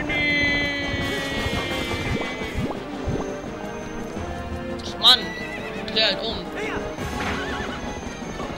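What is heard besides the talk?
horse galloping and neighing in Zelda: Twilight Princess video game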